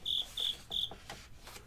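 A cricket chirps three times in quick, evenly spaced pulses, clear and fairly close, with faint room ambience around it and no one talking.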